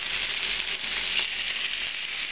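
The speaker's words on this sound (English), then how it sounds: "The chicken pieces first skin side down in the bacon fat, and again, another opportunity to use the guard here, because this is also going to splatter quite a bit." Chicken pieces sizzle skin side down in hot bacon fat for coq au vin, a steady, loud, dense frying hiss with crackling spatter throughout and no talk.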